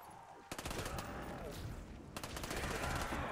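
A Mac 11 machine pistol in Black Ops custom zombies rattling off rapid automatic bursts, with one long stream of fire, a brief pause and a second burst, loud and close.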